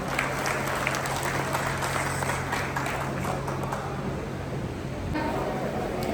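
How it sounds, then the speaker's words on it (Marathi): Applause from an audience at a Dhangar community gathering in Solapur, a dense steady patter of many hands clapping that fades a little toward the end, with a faint tonal hum beneath. "जोरदार टाळ्या होऊन जाऊ देत."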